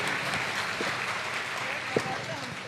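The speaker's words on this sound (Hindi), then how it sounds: "जोरदार ताली बजाओ उसके लिए।" An audience at a religious gathering claps in a dense, sustained round of applause while a voice talks over it.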